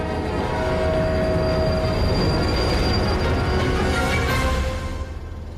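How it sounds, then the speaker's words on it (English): A train rolls along the rails and brakes to a stop, with a steady loud rumble, a squealing wheel tone and a high screech near the end, no voices. "So the train stops."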